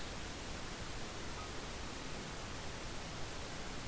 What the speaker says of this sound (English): Instruction: hear the hiss.